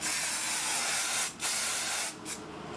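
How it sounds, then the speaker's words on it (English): Hairspray hisses from a can onto hair in a continuous close spritz, briefly interrupted once and easing slightly toward the end, with no talking. "Then get in there with your hairspray"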